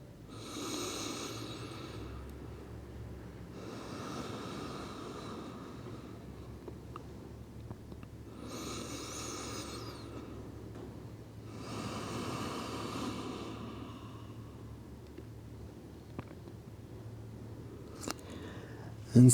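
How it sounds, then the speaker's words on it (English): Slow, deep breaths during a calm yin yoga pose, four long airy inhale and exhale cycles at an even pace, close and soft with no talking. "let's take 2 slow mindful breaths"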